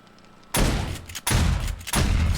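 Shotgun auto turrets in 7 Days to Die fire three loud, booming blasts in quick succession, each shot crashing in broadly with a short reverberant tail; no voices are heard.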